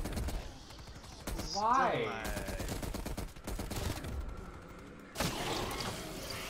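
Stoner machine gun bursts rattle in Black Ops Cold War Zombies, several short rapid volleys broken by pauses, loud and close, with players talking over and between the firing.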